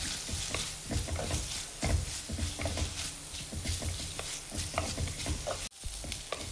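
Onions sautéing in a pan for a fish curry, stirred steadily with a utensil; a continuous close sizzle with repeated scraping strokes, briefly cut off near the end.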